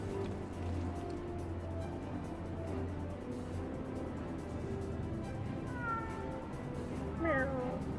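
In the Final Fantasy XIV video game, a cat meows twice near the end, short rising-falling calls over a steady low bed of game ambience.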